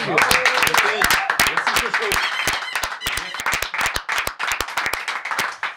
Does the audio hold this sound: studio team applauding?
yes